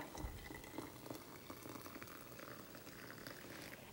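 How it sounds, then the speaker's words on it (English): Hot boiling water is poured into a teapot to brew an herbal tea infusion, giving a steady, faint bubbling and hissing wash that lasts throughout, with no voices. "then you will fill that with hot boiling water"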